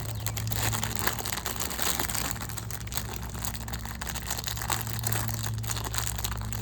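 Continuous crinkling and crunching of a 1987 Topps baseball rack pack wrapper being torn open, close up and steady, with a low hum underneath.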